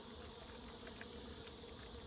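Roughly 300 honeybees buzzing inside a sample jar during a mite check, a steady faint droning hum with small flutters, continuous and close.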